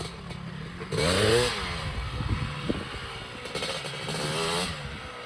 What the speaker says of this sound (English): This is an 86 Honda 250R with a 310 big bore kit.